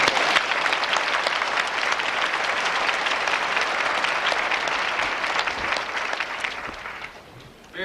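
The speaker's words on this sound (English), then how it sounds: "Let's get all around applause." Audience applause at a 1993 school graduation ceremony, a broad sustained round of clapping from a crowd that holds steady, then thins out and fades near the end.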